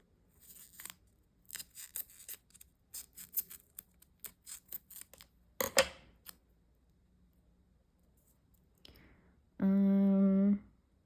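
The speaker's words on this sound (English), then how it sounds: "this is thicker, so I'm going to have to cut these" Scissors snipping through thick sequin fabric in a run of close, crisp cuts with short pauses between them, then a brief tearing rustle and a steady tonal hum near the end.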